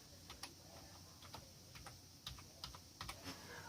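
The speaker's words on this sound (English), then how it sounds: "we type in browser, and we do search" Keys on a computer keyboard are tapped in short, irregular bursts while a search term is entered, each click crisp and close, with no talking over the quiet room tone.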